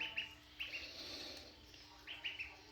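Baby ducklings swimming in water give a few short clusters of soft peeping chirps, spaced apart and fairly quiet against a low background hum.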